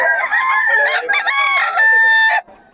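A Chocolate Bulik gamecock stag crows once, loud and close, a harmonic call drawn out over about two seconds before cutting off abruptly.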